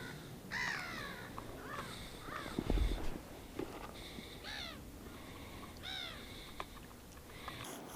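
Crows cawing repeatedly around a carp fishing lake, several harsh calls spread across the scene at moderate distance, with a brief low thump and faint rustling outdoors and no talking.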